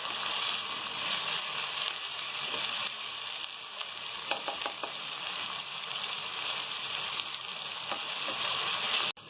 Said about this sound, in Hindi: इसमें हम गार्लिक और धनिया का पेस्ट डालेंगे। तो 2 मिनट तक भूनेंगे